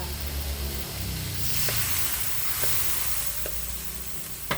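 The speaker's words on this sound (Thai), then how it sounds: "แล้วก็ข้าวโพดกับบล็อกโครีที่เราลวกไว้แล้วลงไป ผัดสักสองสามรอบเติมน้ำค่ะ" Blanched baby corn and broccoli tossed with chicken in a hot pan give a loud, continuous close-up sizzle and hiss, with a few sharp stirring knocks and no talking.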